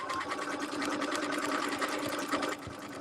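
A sewing machine stitches at a fast steady whir, close and continuous, then drops lower as it slows near the end, with no voices.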